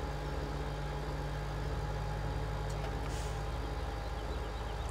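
A tractor engine in Farming Simulator 17 idles steadily, a constant low rumble with an even hum, close and unchanging throughout, with no voices.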